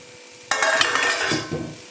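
A lid comes off a pot of lentils cooking over a low flame with a sudden metallic clank, followed by a close sizzle and the bubbling of the simmering pot.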